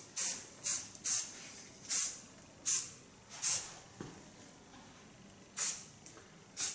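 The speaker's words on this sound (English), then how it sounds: "A little bit of hairspray, also not too much." Hairspray is sprayed onto an asymmetric pixie haircut in about ten short, close hissing bursts, a quick run of rhythmic puffs, then a pause and a few more sprays.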